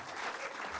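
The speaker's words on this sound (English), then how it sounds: "How about a round of applause?" Brief, fairly faint applause from an audience after a local election candidate debate, a short burst of dense clapping with no other sound.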